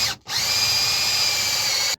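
A power tool tightens bolts on a 3D printed engine crankcase for a 125cc two-stroke build. Loud, close, steady whirring comes in two bursts separated by a brief pause, with no talking.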